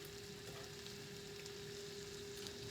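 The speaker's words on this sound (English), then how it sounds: "I'm getting my sausage in the pan. I have a little bit of Kerrygold butter in there" Already-cooked sausage fries in a pan with a little Kerrygold butter, giving a faint, even sizzle and soft crackle that runs steadily throughout with no voices.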